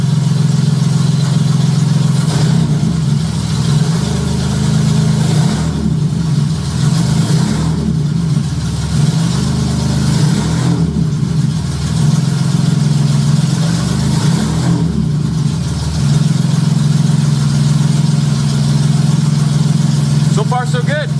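A J35 engine swapped into a Baja, running continuously and loud with a deep steady drone, several brief throttle blips lifting the pitch in turn over the roughly twenty seconds.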